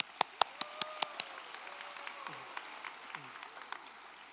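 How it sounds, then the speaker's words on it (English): A handful of sharp, separate claps from a graduation audience open the moment, then fade into quiet room tone with faint background noise. "So give a round of applause for yourself."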